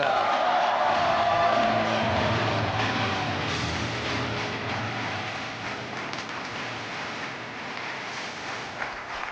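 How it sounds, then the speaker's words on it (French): Studio audience on a French TV game show giving a sustained ovation, a broad wash of applause and cheering that starts loud and slowly fades over several seconds. "Je vous demande quand même de faire une ovation à Delphine."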